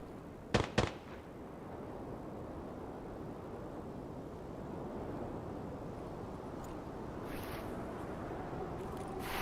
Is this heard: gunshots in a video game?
yes